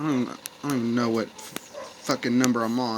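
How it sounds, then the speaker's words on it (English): A dog barks sharply a few times in the background, partly buried under someone talking continuously and loudly up front. "that's my dog barking in the background"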